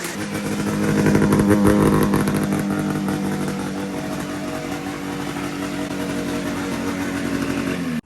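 A Yamaha Banshee two-stroke engine fitted with two big CR500 carburetors runs loud and close, buzzing raggedly and swelling into a rev early before settling to a steady high idle, then cutting off abruptly at the end.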